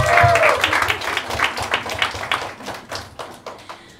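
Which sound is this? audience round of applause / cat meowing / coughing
audience round of applause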